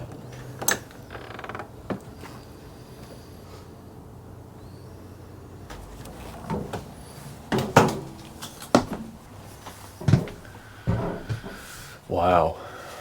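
Door of a Real Lite HS2114 truck camper being opened, with scattered latch clicks, creaks and mechanical knocks at close range amid quiet pauses, while people talk.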